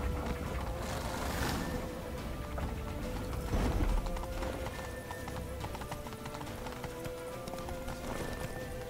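Horse galloping and neighing in The Witcher 3 video game on Temple Isle: rapid clip-clop hoofbeats drumming close and continuous, with a loud whinny early on and game noise and clatter beneath.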